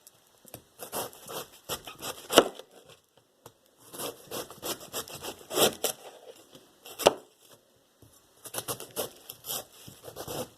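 A knife chopping through a head of cabbage for sauerkraut, bursts of rapid crisp crunching cuts with sharp thuds on the board, separated by short pauses.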